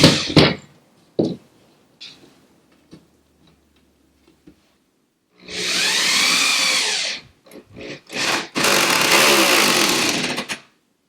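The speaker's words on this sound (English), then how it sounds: "Now this wood is pretty cheap, so I should probably pre-drill my holes for the screws" A power drill bores pilot holes for screws in cheap wood, with two sustained whirring bursts separated by shorter stop-start spurts, loud and close, following scattered clicks and taps of the workpiece being set up.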